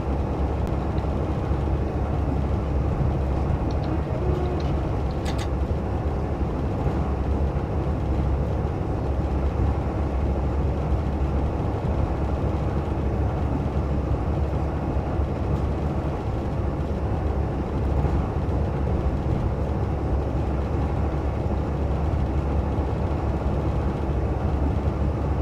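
A Class 165 diesel multiple unit runs steadily in Train Sim 2019 on the Oxford to Didcot line, giving a continuous low engine drone and rail rumble with no breaks or talk.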